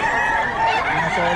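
Several chickens and roosters at a Bocaue poultry market, a loud dense mix of crowing and clucking from nearby birds filling the whole moment, with no voices over it.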